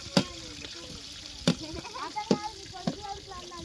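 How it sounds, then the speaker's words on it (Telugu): A metal cooking pot clangs four times at a steady pace during kitchen cooking, with sizzling and faint background voices between the strikes. "ఎందుకు సౌండ్ చేస్తున్నావు ఒక గిన్నె దాన్ని?"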